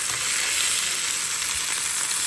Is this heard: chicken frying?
yes